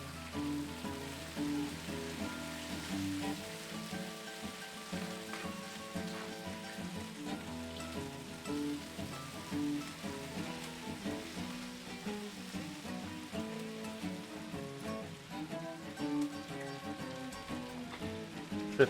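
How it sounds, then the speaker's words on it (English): Bacon fries on a Blackstone griddle with a soft, continuous crackling sizzle, heard faintly over a quiet tonal background. "let's flip our bacon over."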